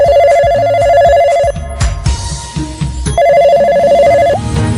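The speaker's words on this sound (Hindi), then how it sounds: "टे, टे से टेलीफोन।" A telephone rings loudly and close, two bursts of fast trilling bell separated by a brief pause filled with faint clatter.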